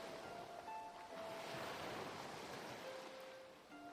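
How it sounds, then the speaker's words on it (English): Ocean waves wash and crash against a shore in a steady, loud surf roar that swells and recedes, with a few faint tonal notes drifting over it and no voices. "watching as the waves crash against the shore"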